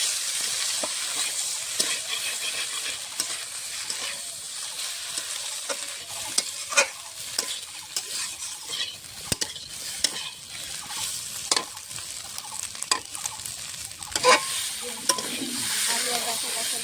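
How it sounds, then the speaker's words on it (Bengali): Potatoes and vegetable stalks sautéed in a pan with ginger-cumin and green chilli paste for a prawn curry, a continuous close sizzle with repeated scraping stirs of a spatula across the pan. "আলু আর ডাঁটা কষানো হয়ে গেছে"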